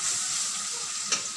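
A paste of ginger, garlic and onion sautéing in a pan for a bottle gourd and meat dish sizzles steadily and close, with one brief scrape of stirring near the end.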